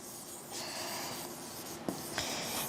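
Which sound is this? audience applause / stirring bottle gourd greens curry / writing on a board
writing on a board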